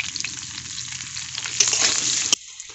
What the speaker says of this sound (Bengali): দিয়ে আলুগুলো ভেজে নেব